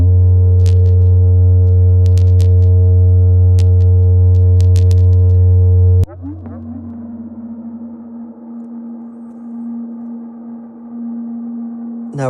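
Feedback tones from the No Input Mixer app: a loud steady drone with sharp clicks cuts off halfway, giving way to a quieter, rougher sustained hum that runs to the end, with no voices.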